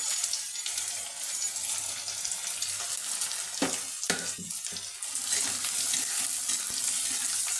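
Chopped onion, garlic, ginger and green chili frying lightly in a pan, a steady close hiss of sizzling oil with a few stirring clatters in the middle, no voices.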